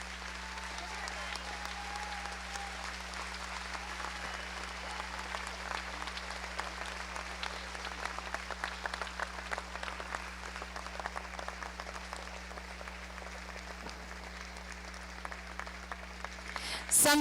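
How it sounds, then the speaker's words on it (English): Audience applause at a county fair awards event for a lifetime achievement honor in a beef breeders hall of fame, a steady, moderately distant clapping wash with constant low hum beneath and a brief louder burst at the end. "Please give him a round of applause."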